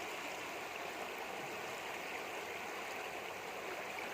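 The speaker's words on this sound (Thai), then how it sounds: "น้ำเนี่ยไหลเข้ามา นะครับ น้ำแรงมากเลยครับ" Floodwater from a broken dam pours forcefully into a house near an elephant enclosure, heard as a steady, dense rushing hiss of moving water with no letup and no voices.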